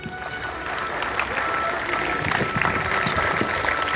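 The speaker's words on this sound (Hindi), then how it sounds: "एक बार जोरदार तालियों के" Loud, dense applause from a school audience at a National Youth Day celebration, a steady wash of many hands clapping at once that holds for the whole stretch, with faint voices underneath.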